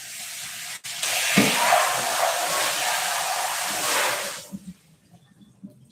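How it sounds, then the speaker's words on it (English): A bowl rinsed under a running kitchen tap during meal prep, a steady broadband water hiss lasting about three seconds before cutting off, followed by a few faint clinks and handling sounds. "let me rinse this bowl real quick"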